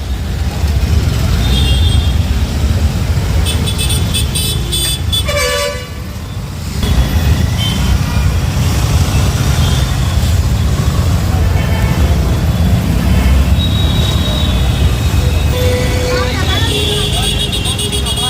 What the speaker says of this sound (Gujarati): Full traffic. આજે બસોનો ખૂબ જ ટ્રાફિક છે.